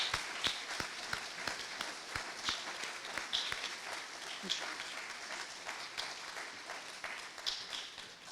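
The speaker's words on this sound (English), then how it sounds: "Let's get a round of applause for them." A round of audience applause for candidates at a Yountville general election forum, moderately loud, irregular clapping with distinct individual hand claps standing out, sustained for several seconds.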